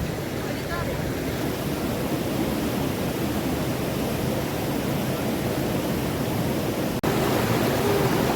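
Water rushes steadily and loudly, a constant broad hiss with no pauses, filling the whole stretch.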